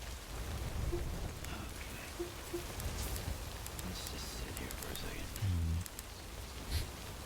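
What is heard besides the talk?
rain falling in the video game Death Stranding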